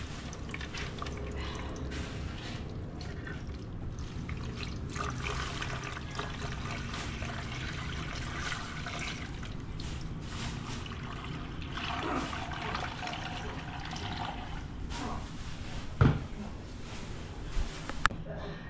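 Water runs and pours continuously at low volume into a medium cooking pot, with faint splashing and a few small clunks near the end.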